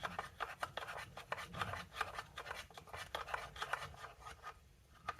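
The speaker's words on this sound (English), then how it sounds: "I'm going to mix the chia in here like this" Chia seeds stirred into chocolate sourdough pancake batter with a spoon, a steady run of quick scraping, rubbing strokes against the bowl, close and fairly quiet, with no voices.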